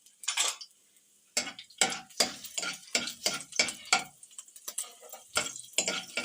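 Garlic sizzling in a hot pan, stirred with a utensil that scrapes and taps the pan in quick irregular bursts, close and fairly quiet.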